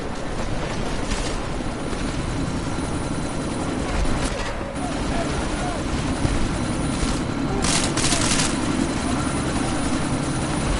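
Helicopter in the video game Deus Ex: Mankind Divided during a sandstorm, a loud, continuous rotor and engine drone that fills the scene with brief bursts of noise, speech faintly mixed in.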